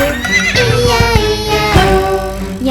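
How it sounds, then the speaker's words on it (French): A horse on a farm gives a loud, close whinny with a wavering pitch, lasting about three seconds over a sung children's tune. "y a des centaines de chevaux"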